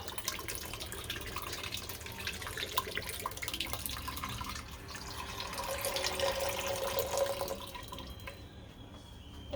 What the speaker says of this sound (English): now I'm going to add my beef broth